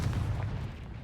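Confringo blasting spell going off in Hogwarts Legacy, a dense low rumbling burst that holds steady and loud through a single second, with no voices over it.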